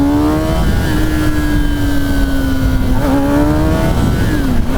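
A 2024 Kawasaki Ninja ZX-10R sport bike, ridden with traction control off, screams loudly up close as its engine revs climb and dip through gear changes, with no talking.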